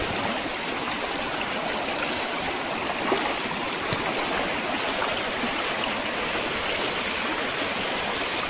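A rain-fed village stream rushes steadily nearby, a continuous broadband wash of flowing water that holds an even level throughout with no voices.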